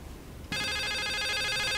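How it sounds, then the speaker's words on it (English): An electronic telephone ring suddenly starts in the psychological thriller game The Suicide of Rachel Foster, a loud, steady, tonal ringtone that cuts in after a near-silent moment and sustains, with no talking over it. "how did I know that phone was gonna ring?"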